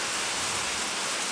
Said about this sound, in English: I wouldn't call it precipitation because it's hailing